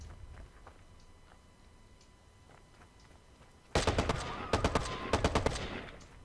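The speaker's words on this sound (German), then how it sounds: "Wer schießt denn hier auf mich?" Gunfire in Watch Dogs, a quiet stretch of faint ticks and distant pops giving way midway to loud, close bursts of rapid shots in uneven clusters.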